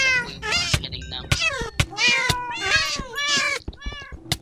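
Several cat meows from video game enemy kitty cats, close, loud and repeated in quick succession, some drawn out into whiny caterwauls.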